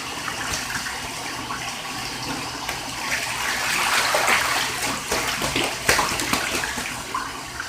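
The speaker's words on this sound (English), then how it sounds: "Pretty Bird's splashing us." A pet goose splashes in bathtub water, making continuous sloshing and splattering that builds toward the middle and ends in sharp splashes.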